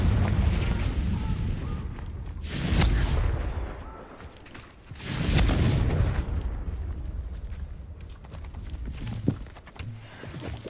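Confringo spells go off in Hogwarts Legacy spell combat as two heavy, rumbling explosions a few seconds apart, each swelling and then decaying into a lower background of battle noise.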